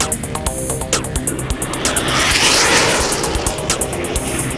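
A twin-engine Sukhoi-30 MKI fighter jet with thrust vectoring flies by as a loud, broad roar that swells in the middle and eases off, with rapid crackling bursts across it.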